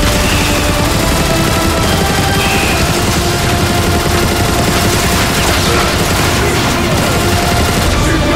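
Dense, continuous gunfire and blaster volleys from a Transformers: Fall of Cybertron battle hit loud and unbroken from start to finish, with a voice briefly audible underneath.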